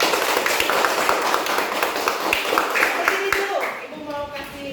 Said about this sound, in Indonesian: Ya, tepuk tangan dulu kalau gitu.